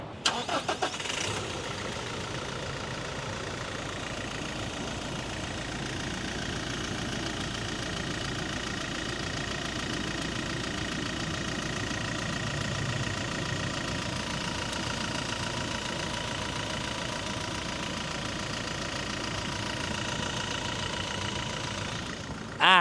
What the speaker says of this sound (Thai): เดี๋ยวฟังเสียงเครื่องยนต์กันหน่อย